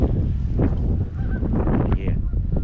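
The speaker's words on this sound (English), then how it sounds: "You can hear those Canada geese." Loud Canada geese honking fills the moment, several overlapping calls close up with faint wind buffeting the microphone.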